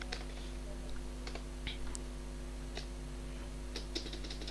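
Quiet clicks of a computer keyboard being typed on, with scattered key taps and space bar presses, sparse and close over a steady low hum.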